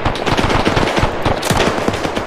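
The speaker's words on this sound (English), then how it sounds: "MG42 at the top of the Brandenburg Gate." MG42 machine gun in Arma 3 fires a continuous rapid burst, loud and close, its dense rattle of shots packed tightly together with no talk over it.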